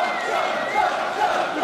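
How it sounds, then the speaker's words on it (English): A large wrestling crowd at a match chants loudly and steadily for Swoggle to chug, with many voices blending into one dense roar that keeps a rhythmic swell. "The crowd telling Swoggle to chug, and with a pained look in his face, he acquiesces to the demands of the masses."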